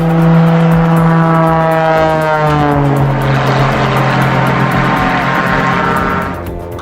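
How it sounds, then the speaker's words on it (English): A jet plane and a Lamborghini race head-to-head along a runway beside a public road, making a loud, close, continuous engine roar with a slowly falling whine that eases off at the end. "A jet plane or a Lamborghini racing head-to-head?"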